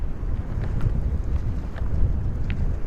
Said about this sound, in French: Mais par contre il y a un sale vent.